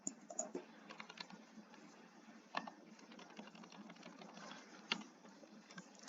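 A computer keyboard being typed on while text is entered into a tumbler design in Canva: light, irregular clicks at a quiet level with a few sharper taps, and no talking.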